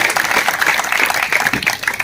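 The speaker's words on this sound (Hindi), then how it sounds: "एक बार जोरदार तालियां रमेश जी के लिए" Loud, enthusiastic applause from a crowd at a village felicitation ceremony in Haryana, a thick burst of many hands clapping that continues unbroken for about two seconds.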